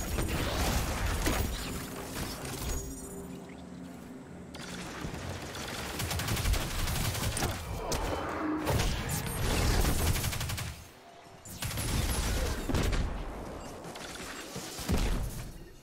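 Rapid gunfire and clattering shots from Arc Souls firing at mines in the game Destiny 2, loud and continuous bursts with brief pauses and a crash.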